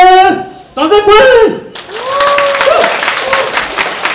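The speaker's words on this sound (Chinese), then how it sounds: "掌声鼓励。" Applause breaks out at a teachers' appreciation tea party at Kun Shan University of Technology. A loud voice comes first, then a crowd claps in a steady, moderate wash until the end.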